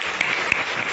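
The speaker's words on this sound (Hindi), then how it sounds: "बजाइए ताली उसके लिए।" Dense crowd applause fills a hall at a pharmacy college's anti-addiction event, with steady clapping throughout and a couple of sharper claps standing out.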